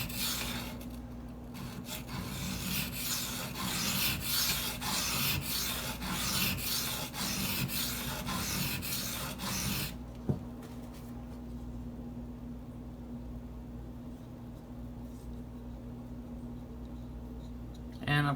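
A Spyderco Native 5 knife blade is drawn across Gritomatic silicon carbide stones in a run of steady, repeated rasping strokes close by, then the strokes stop and faint room noise remains.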